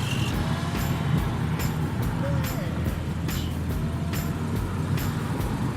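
A restored classic car out on a ride gives a steady, unbroken rumble of engine and road noise from inside the cabin, with faint clicks and rattles scattered over the drone.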